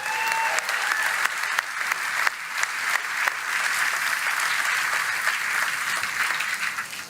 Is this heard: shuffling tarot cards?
no